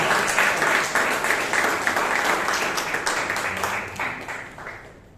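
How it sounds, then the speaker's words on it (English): A room full of people clapping at a Toastmasters meeting in Bangalore, loud at first and gradually thinning out as the applause fades away. "Let's give a big round of applause."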